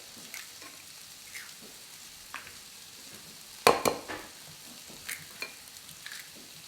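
Three eggs beaten together in a bowl, producing soft, irregular whisking taps and stirring scrapes, a few sharper knocks near the middle, fairly quiet and alone.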